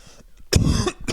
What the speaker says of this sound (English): See, I coughed into the mic.